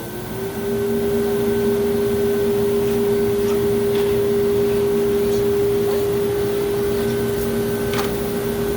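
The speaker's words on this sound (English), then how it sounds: "turn on the vacuum" A steady, loud mechanical hum and whoosh of a banner heat welder's vacuum table runs continuously from start to end, with a constant motor drone.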